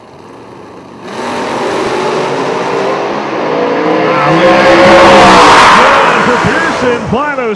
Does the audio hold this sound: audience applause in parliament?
no